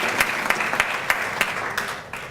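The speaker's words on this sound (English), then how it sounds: "Let's give an applaud for Mrs." An audience at a book award ceremony applauds an honored guest, a full wash of clapping with a few crisp nearby claps standing out, tapering off toward the end.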